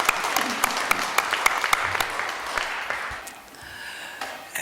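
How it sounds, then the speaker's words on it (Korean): Congregation applause during a church worship service fills the room as a dense, steady patter of clapping at moderate distance, fading slightly toward the end with no voices over it. "하나님께 영광의 박수를 올려드리겠습니다."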